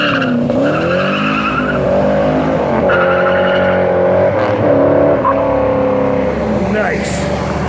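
A 1969 Dodge Charger Hemi R/T pulls out with tires squealing and the engine revving through a steady roar, while someone talks over it.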